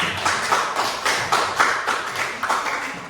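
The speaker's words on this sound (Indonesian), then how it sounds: "Begitu kita beri aplaus" A classroom of ninth-grade students claps for their work: steady rhythmic applause with regular beats, fairly loud and close, with no talking over it.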